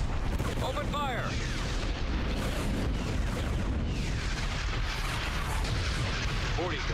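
Space battle weapons fire in the strategy game Star Wars: Empire at War, a dense continuous rumble of booming blasts and laser zaps with sweeping tonal chirps, steady and loud, while unit voices speak over it.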